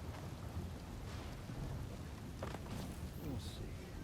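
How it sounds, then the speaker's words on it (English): Steady rain hisses through a thunderstorm in the Western game Desperados III, with a low rumble of thunder rolling beneath a constant wash of downpour. "The storm has arrived."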